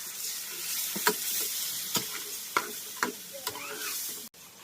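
Paneer sizzling in a pan with water just added for paneer bhurji, a steady hiss of frying broken by several distinct spoon scrapes and knocks as it is stirred, ending with a brief cutoff.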